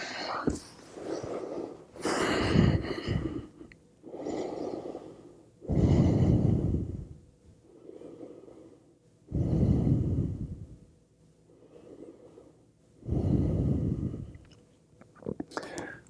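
Slow, deep breathing during a resting yoga pose with forehead on the hands, several long audible inhales and exhales in an even rhythm, close and breathy.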